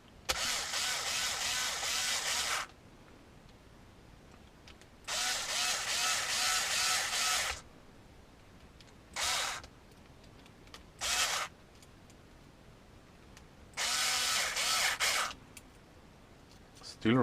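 A power drill whirs in several bursts, a few seconds each with short pauses between, driving screws into a WPL C44KM Land Cruiser model kit close by.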